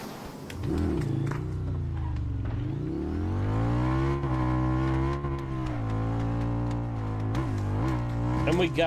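Motorcycle engine in PUBG, a steady droning growl with rising and falling pitch as the bike revs and accelerates, loud and continuous throughout, with a voice speaking over it.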